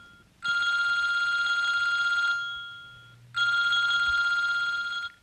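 A telephone rings indoors during a Christmas play, two long bright electronic rings separated by a short pause, loud and clear with no talk over them.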